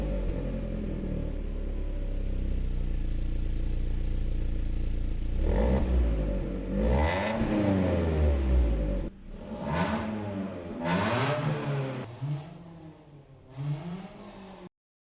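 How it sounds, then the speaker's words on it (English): BMW E36 318is with an old, badly worn exhaust, idling loudly and then revved several times in short, rising bursts with dips between, close and alone. "the exhaust is really, really bad. Listen to this."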